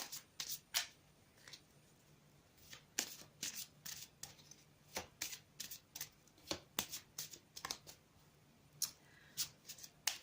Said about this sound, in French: je vais tout de suite tirer une carte pour la semaine